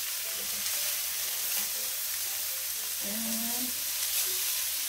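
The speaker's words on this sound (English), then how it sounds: "So I started grilling it for 5 minutes." A homemade hamburger patty sizzles on a grill, a steady hissing crackle close by, with someone briefly speaking over it.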